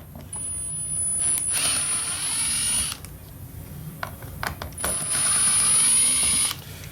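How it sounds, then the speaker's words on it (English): A power Torx driver whirs through two separate bursts, backing screws out of plastic threads on a Chevy GMC center console, with light mechanical clicks and handling between the runs. "We'll start by pulling the power module off with the Torx."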